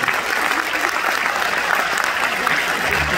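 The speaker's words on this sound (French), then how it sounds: "Vous pouvez de nouveau les applaudir, l'équipe du film Teddy." A theatre audience at a Deauville screening of the film Teddy applauds the film crew, a dense, steady roar of many hands clapping throughout with a faint crowd murmur.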